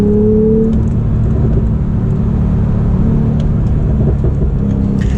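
A Porsche 911 Carrera on a spirited mountain drive, its engine a loud, close, continuous rumbling whir from inside the car with a brief rising rev at the start.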